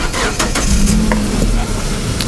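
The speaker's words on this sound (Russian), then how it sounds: "Водительское стекло, оно опускается автоматически." A car's electric driver's-side window lowers automatically, a close, steady motor whir running for about a second over a low background hum.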